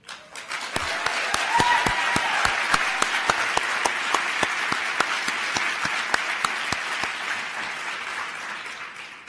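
A theatre audience applauds steadily at a talk featuring a principal ballet dancer, dense clapping that swells quickly and holds loud and even, with a few sharper claps standing out.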